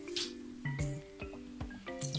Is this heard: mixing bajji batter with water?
yes